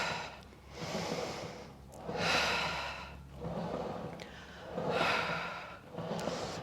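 Slow, audible breaths during a Pilates reformer exercise, alternating long exhales and inhales in a steady rhythm of about five breaths, close and fairly loud with no talking.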